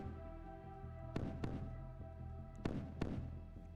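Gunfire in a naval warfare video game during a Tu-16 bomber attack on a US surface group in the Baltic: two sharp, distant booming shots about a second and a half apart, with a smaller thud after each, over a steady low engine hum.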